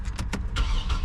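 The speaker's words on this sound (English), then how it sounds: "Start our car up so that our battery is constantly being charged while we're using it." A car engine is started to keep the battery charged while a vehicle is prepped for a road trip. Close, brief whirring bursts of cranking quickly blend into a running engine.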